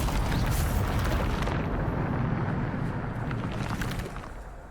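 A Bombarda spell explodes in Hogwarts Legacy on PS5: a loud, booming blast with a rumbling roar that lingers and slowly fades over several seconds.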